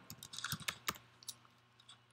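Quick, light clicks of a computer keyboard as a username and password are typed, a short uneven burst of keystrokes that trails off into a few final taps, close and fairly quiet.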